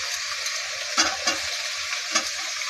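Vegetables, including carrots, fry in a pan with a steady close sizzle, broken by a few spatula scrapes and knocks as they are stirred, and no talking.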